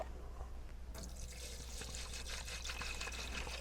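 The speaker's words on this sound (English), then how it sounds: "First thing we're going to do is add some water" Water is poured into an ultrasonic cleaner from Harbor Freight, starting abruptly after a quiet moment and continuing as a steady splashing, trickling fill, faint and close.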